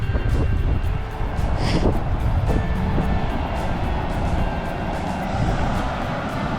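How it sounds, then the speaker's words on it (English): A big truck rumbles past near a waterfall trail, a steady low engine roar and road noise holding throughout, with a brief higher whine partway through. "there's a big truck coming"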